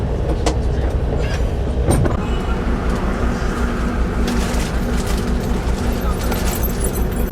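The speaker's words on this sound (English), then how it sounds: "The elevated train system, one of the stations for it." An elevated train rumbles and clatters past continuously in Beijing with steady rail noise, fairly loud, with traffic ambience and a brief squeal mixed in.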